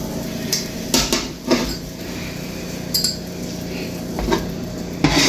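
Meat being moved into a pot for Trini pelau, with several sharp clinks and scrapes of a utensil against cookware, close by and spaced irregularly, over a low steady kitchen hum.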